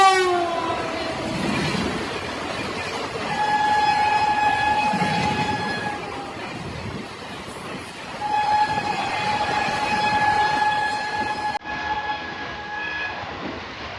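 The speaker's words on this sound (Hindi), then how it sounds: "और बड़ी ही तेजी से कोई ट्रेन कानपुर की तरफ से आ रही है।" An Indian Railways train approaches fast at Jhansi Junction, sounding a loud, sustained multi-tone horn in two long blasts over a steady rumble of rolling wheels and clatter, with no one speaking.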